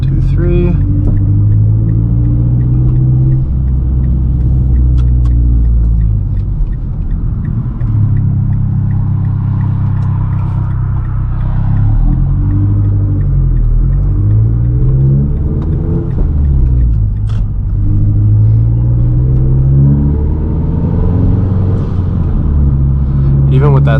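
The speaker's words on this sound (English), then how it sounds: "there's quite a bit of intake noise, which I'm a big fan of" A 2011 Mazdaspeed3 driving, its engine and intake drone heard from the cabin as a loud steady rumble that rises and falls with throttle over about twenty seconds of continuous road noise.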